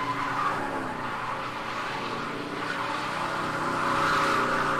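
A car in the Silent Hill 2 video game drives toward a lake with a continuous engine roar and squealing tires, swelling louder near the end.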